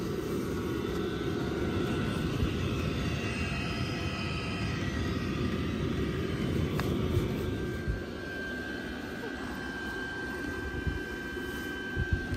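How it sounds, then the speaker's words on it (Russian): An airplane passes high overhead at dawn near Astrakhan, a low, steady jet rumble that drones on faintly and distantly before slowly easing off. "Самолет."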